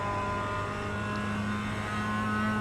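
Simulated Mazda MX-5 Cup race car engine in iRacing at WeatherTech Raceway Laguna Seca, a steady sustained drone holding one pitch, close and continuous with no talk.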